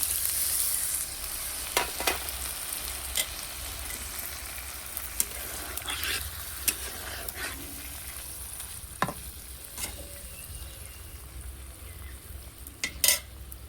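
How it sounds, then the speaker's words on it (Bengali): Pointed gourd and prawn curry sizzles steadily in a pan after a little water is added, with scattered spatula scrapes and clinks against the pan throughout, close and without talking. "এবার পরিমাণ মতো একটু জল দিয়ে দিচ্ছি।"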